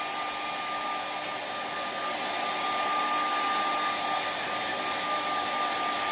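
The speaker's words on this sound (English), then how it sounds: "Use a blow dryer." A hair blow dryer dries blue acrylic paint on a lake sunset painting, a steady loud whir with a constant high whine, running alone without pause.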